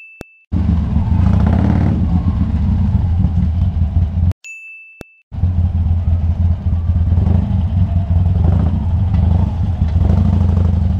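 Motorcycle engines rumble loudly up close from a KTM Duke 390 and a Harley-Davidson 883 riding through city streets, a heavy throbbing idle and revs cut by brief gaps, with a short chime at the start and another partway through.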